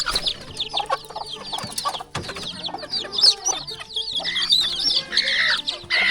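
Many chickens in a rural Lao village cluck and squawk close by in a busy, overlapping chorus, with sharp calls popping out irregularly and a brief louder thump near the middle.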